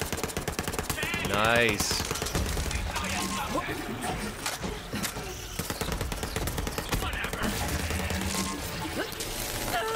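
SMG fire in Borderlands 3 crackles in rapid bursts amid other game effects, with a voice talking over the fast, close shooting.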